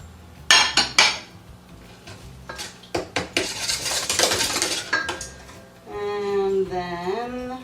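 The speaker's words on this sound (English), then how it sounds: "Okay, so we just whisk that together." Butter almond cake batter is whisked in a bowl with clinking, scraping strokes of the whisk against the sides. Sharp taps come first, then a busier stretch of whisking. A voice talks near the end.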